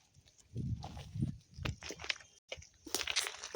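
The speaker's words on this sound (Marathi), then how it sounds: "बघा आपल्या शेळ्या मेंढरं कसे खात आहे गवत" Close-up crunching and tearing as goats and sheep graze on grass on open grassland, irregular bites and chewing with occasional rustles and hoof steps, no talking.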